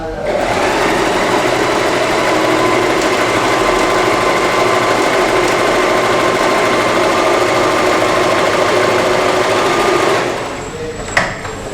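Sewing machine stitching fabric at a tension setting of 4, a loud, close, rapid mechanical whir running steadily for about ten seconds before stopping with a small clack.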